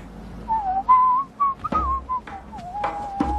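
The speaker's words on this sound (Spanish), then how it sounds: "Silbas." A man whistles a slow, wavering melody alone, the long tones sliding and pausing through a quiet scene.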